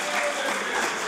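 Applause in the House of Assembly during legislative proceedings, a brief burst of dense clapping filling the chamber at moderate loudness with no speech over it.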